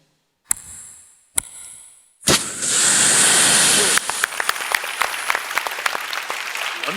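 On a comedy stage show, a performer vocally imitates a matchstick being struck: two short sharp scratches, then a longer hissing flare, followed by scattered applause and crowd noise.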